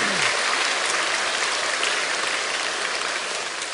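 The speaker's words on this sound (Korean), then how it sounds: "우리 박수로 환영하겠습니다." A church congregation claps together at a Sunday worship service, giving dense, steady applause that fills the whole stretch at a loud, even level.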